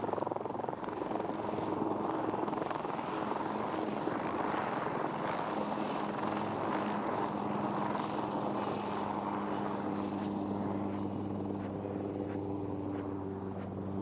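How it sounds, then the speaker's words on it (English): A light combat helicopter in an air show flying display, its loud rotor drone and whining engine holding for the whole stretch with no pauses. "Conventional helicopters cannot perform this maneuver as crisply, as swiftly as the LCH."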